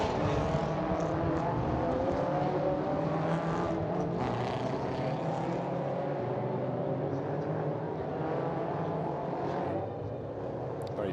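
Race car engines drone steadily as a pack of cars pulls away from the grid at the Macau Grand Prix qualifying session, a continuous loud roar with shifting pitch throughout.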